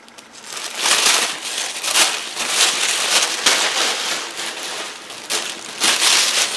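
Sheets of tissue paper being handled and shifted up close, giving a steady, loud crinkling and rustling that rises and falls in bursts with no talking.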